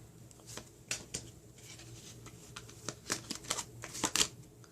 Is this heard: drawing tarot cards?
yes